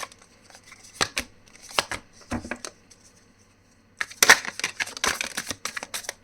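Tarot cards shuffled and drawn close by, with irregular papery riffles, flicks and snaps in scattered bursts, a brief quiet gap, then a denser flurry of handling.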